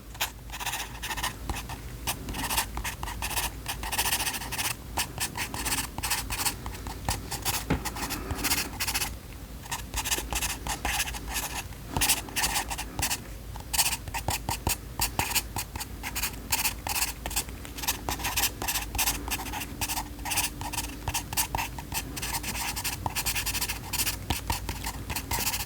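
Pencil scratches and scrapes steadily across paper, held at an awkward high angle, with continuous close, soft writing strokes that run without pause and no talking over them.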